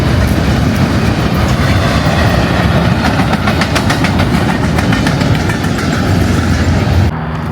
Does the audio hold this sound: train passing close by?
yes